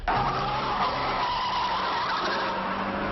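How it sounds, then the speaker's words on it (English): Cars skidding in a car train race, a loud continuous tire squeal and engine roar lasting about three seconds, without any voices. "The wild world of car train racing."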